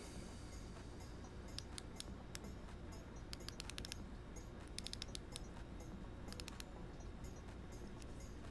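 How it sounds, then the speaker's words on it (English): Drag and spool tension knob of a Tsurinoya Dark Wolf Ultra KF50S BFS baitcasting reel being turned, giving close, crisp clicks in quick bursts separated by short pauses. "Let's see if the Star Drag has a clicker. Let's check the spool tension knob."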